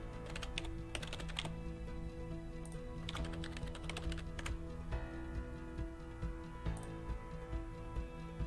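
Someone types a username and password on a computer keyboard, producing quiet, close bursts of rapid key clicks separated by short pauses.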